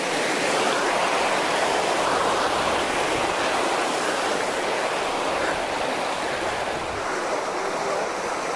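A mountain stream rushes over big boulders in a steady, broadband roar of flowing water, loud and unbroken throughout with no voices.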